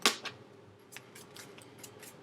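Tarot cards are shuffled by hand in a quiet room: one sharp snap, then light papery flicks and taps, close and soft.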